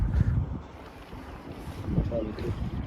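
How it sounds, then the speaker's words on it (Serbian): Wind blows outdoors at Đavolja Varoš, buffeting the microphone with a low, rumbling roar that swells and eases throughout while people talk nearby. "Duva, osjeti se da pirka."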